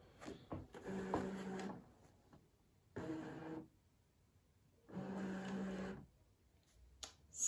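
A Brother Scan N Cut draws in its cutting mat with three separate whirring motor runs, each lasting about a second, plus a few clicks and clacks between them, all close and fairly quiet with no talking.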